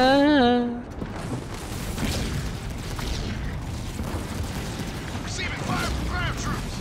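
Ground troops firing in the Halo Wars 2 real-time strategy game, a dense, continuous rumble of gunfire and booms after a brief tonal alert at the start.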